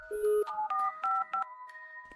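Phone dialing tones from a call being placed again in an animated horror story, a series of clean electronic beeps at shifting pitches, close and alone.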